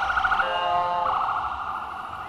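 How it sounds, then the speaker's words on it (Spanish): An ambulance siren passes during a Mexican Independence Day parade, a loud wailing tone that shifts from a rapid yelp into a steady rising and falling wail, heard clearly with no talk. "dejamos que pase la ambulancia"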